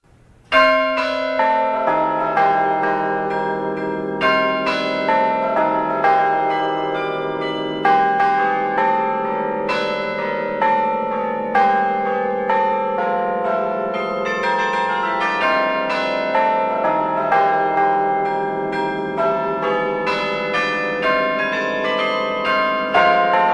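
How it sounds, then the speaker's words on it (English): Carillon bells on the Berkeley campus ring out a continuous melodic tune, many overlapping struck tones sustained and ringing loud and clear for the whole stretch, with no talking. "The bells chime every hour, and a short concert is played 3 times a day"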